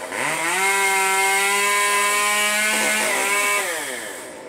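A chainsaw cutting pine tree branches during a tree removal: the engine revs up, holds a loud, high, close whine while cutting, then winds down near the end, with no talking.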